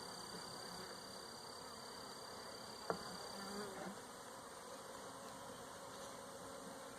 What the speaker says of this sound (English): See, we got bees coming out already.